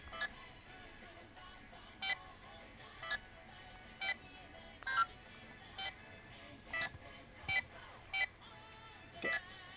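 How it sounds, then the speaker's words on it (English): Simple electronic beeps from the number buttons of a used Boukenger Accellular toy, a dozen short tones pressed one at a time in an uneven rhythm, close and fairly quiet. "you can hear the very simple beep."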